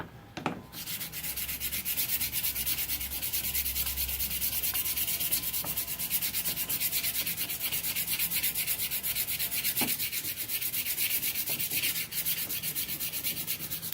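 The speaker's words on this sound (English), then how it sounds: "I'm going to do some hand sanding with some 80 grit sandpaper." Steady, continuous rasping strokes of 80 grit sandpaper worked by hand over a steel knife blade made from a chainsaw bar, close and alone, with a couple of faint clicks.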